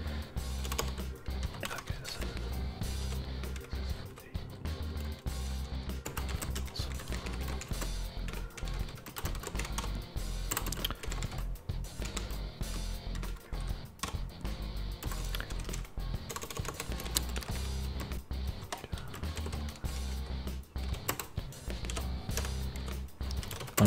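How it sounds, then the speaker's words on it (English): Steady, dense keystrokes on a computer keyboard clatter continuously for the whole stretch, close and even, with a low hum underneath and no talk. "Typing something to somebody on Lorden's channel"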